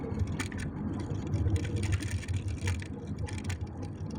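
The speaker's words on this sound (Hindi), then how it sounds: "शोर आ रहा है ना, आप ड्राइव कर रहे हैं मेरे ख्याल से।" Low rumbling road and engine noise from a car driving in the rain in Kuwait, heard faintly and steadily through a phone line, with scattered brief crackles on top.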